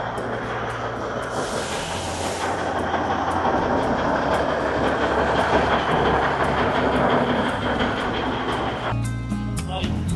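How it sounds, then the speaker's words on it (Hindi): A slow Matheran toy train rolls along its rails, giving a steady rumble and rattle with faint clicks throughout, loud and close, from on board. "हम कंफर्टेबली बैठ गए हैं टॉय ट्रेन में. It is a slow moving train"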